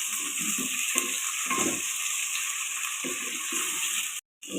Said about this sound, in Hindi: प्याज लाइट ब्राउन हो जाए आपने इसमें ये चिकन शामिल कर देना है